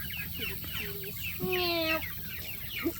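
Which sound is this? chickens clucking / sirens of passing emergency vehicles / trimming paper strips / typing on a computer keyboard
chickens clucking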